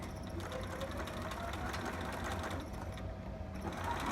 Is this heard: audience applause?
no